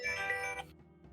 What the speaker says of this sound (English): I got a phone call